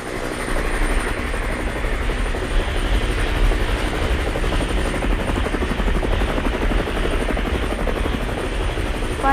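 Private helicopter in the video game Mad City makes a steady, continuous rotor and engine drone that stays even and loud throughout, with no talk over it.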